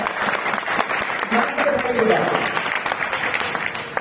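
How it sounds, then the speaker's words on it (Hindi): A congregation at a Hindi-language church revival conference claps, producing a loud, continuous patter of many hands throughout, with faint voices mixed into the crowd noise. "ताली बजाइए अपने लिए।"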